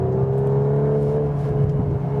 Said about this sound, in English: Wow, exhaust cracking note once again.